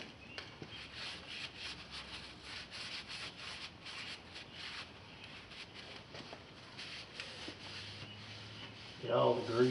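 A rag rubs and wipes grease off a newly installed radiator hose on an Oliver 1850 tractor, a soft steady scrubbing close by, ending in a brief louder clatter.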